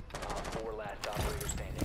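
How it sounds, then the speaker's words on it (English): Rapid gunfire from a Rainbow Six Siege match with sidearms only, a dense, continuous burst of shots close by, with faint voices mixed underneath. "What are you shooting at?"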